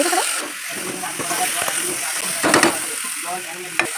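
Broiler chicken meat hitting a hot pan and sizzling steadily, with stirring and scraping clatter over the hiss.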